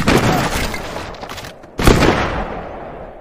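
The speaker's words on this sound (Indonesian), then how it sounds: "Gregory terlihat sedang berlatih di lapangan tembak" Rifle gunfire at a shooting range during Soviet sniper training in the film Siberia, with two loud broadband blasts and reverberating tails, close and dominant with no talk.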